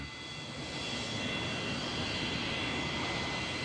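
A cargo airplane's engines roar steadily at Roissy-Charles de Gaulle airport, a loud, continuous broadband rush with no voices over it.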